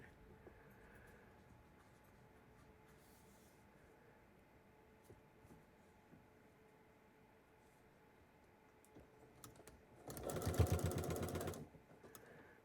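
A sewing machine stitches a bulky quilt block seam in a short rapid burst near the end, loud and close, after a stretch of faint quiet handling noises and small clicks.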